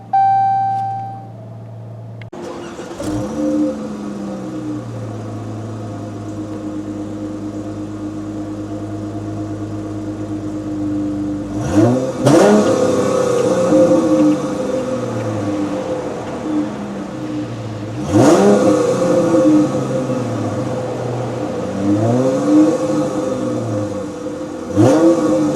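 A 2016 Dodge Charger SXT with a 3.6 liter V6 starts after a short chime, settles into a steady idle, then revs up sharply three times with rising and falling engine pitch, loud and close, no talking.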